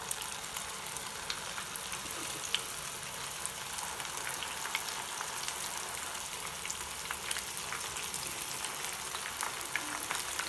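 Soya nuggets deep frying in hot oil make a dense, steady sizzle with fine crackles and pops, close and continuous throughout, with no one talking.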